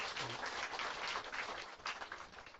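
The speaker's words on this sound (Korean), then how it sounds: "우리 박수로 환영하겠습니다" A church congregation clapping to welcome a guest pastor at a Sunday worship service, a quiet, steady wash of applause that sounds somewhat distant and lasts throughout.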